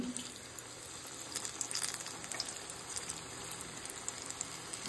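Pakora drops into a pan of hot oil and fries with a steady, hissing sizzle, continuous and fairly quiet, with faint crackles and no talking.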